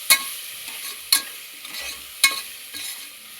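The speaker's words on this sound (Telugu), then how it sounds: "పెట్టుకొని కలుపుకుందాం" A spoon scrapes and stirs cooked-down tomato masala in a pan on low flame for prawn biryani, with three sharp scraping strokes roughly a second apart over a faint, steady sizzle.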